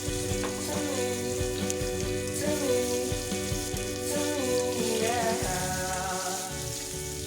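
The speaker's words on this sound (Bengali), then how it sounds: "গরম হয়ে যাওয়ার পর আমি আলুগুলো ছেড়ে দেবো, আর আলুগুলোকে যতক্ষণ এটা গোল্ডেন ব্রাউন হবে ততক্ষণ ভাজতে হবে।" Potatoes frying in hot oil until golden brown for aloo dum, a loud continuous bubbling sizzle with some tonal hum running underneath, no speech.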